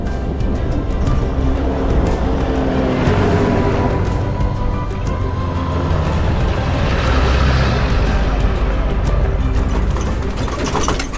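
A vintage truck rumbling over a bumpy, rocky route, with loud, constant engine and road roar, rattling jolts and wind noise filling the whole stretch.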